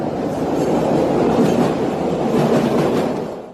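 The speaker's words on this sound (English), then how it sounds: "hold on, this train going by." A train rolls steadily past nearby, a loud continuous rumble with faint clickety-clack from the wheels, heard alone throughout.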